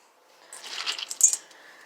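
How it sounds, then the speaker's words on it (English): Wet pumpkin seeds are tipped and spread onto paper towels, a brief close cluster of light clicking and pattering lasting about a second, with no voices. "Transfer your pumpkin seeds to the paper towels."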